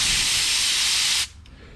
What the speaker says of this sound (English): Let's blow it out with the air hose.